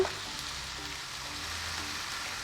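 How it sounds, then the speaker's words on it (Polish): Mushrooms and onion frying in a pan, giving a steady, soft, continuous sizzle with no talk. "Wszystko razem podsmażam jeszcze tak około 3 minut."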